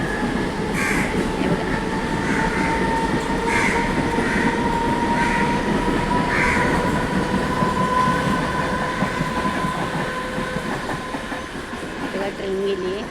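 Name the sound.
train passing over a bridge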